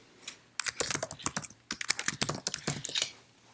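Keys on a computer keyboard are tapped in quick irregular bursts, close and clear, as a document name is typed, with a short pause partway through and no voices.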